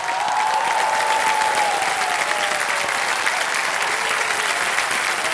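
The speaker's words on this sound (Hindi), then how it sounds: "तालियां बज जाएं इनके लिए।" A studio audience on the KBC game show applauds a contestant, loud sustained clapping from a large crowd that continues evenly throughout, with a faint musical tone gliding underneath.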